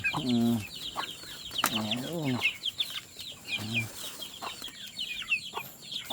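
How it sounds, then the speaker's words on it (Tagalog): Farm-raised chickens cluck repeatedly at close range, with short rhythmic calls scattered through a busy yard, and people talk briefly over them. "Dami nating alagang manok."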